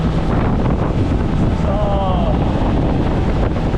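Strong wind buffets the microphone over the rumble of a moving boat and water in Panama, with a brief voice near the start.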